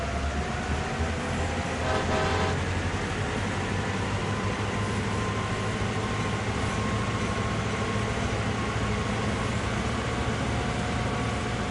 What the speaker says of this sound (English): 38-2's sound package on Northeast Corridor New York sounds a bit different than what I've normally experienced